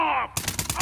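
Machine gun fire in The Last of Us Part 2, a quick burst of several sharp, loud rapid shots in rhythm, following a brief tonal in-game sound.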